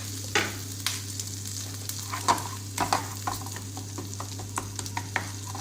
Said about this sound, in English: We need to make sure that oil should not be too hot to burn the gram flour.